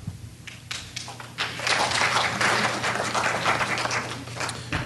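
An audience at a public hearing on Hawaii SB1 claps. A few scattered claps swell into steady, moderately faint applause that fills the room and keeps going to the end.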